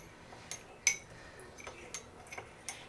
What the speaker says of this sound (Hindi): दूध में हम जब तक चीनी मिक्स करके रख लेते हैं।